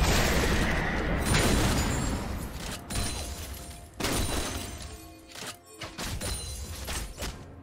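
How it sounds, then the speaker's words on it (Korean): A turret is destroyed in League of Legends amid a team fight, with a series of heavy booms and crumbling crashes, shattering debris and bursts of combat effects that rise and fall over several seconds. "파랑 팀의 포탑이 파괴되었습니다."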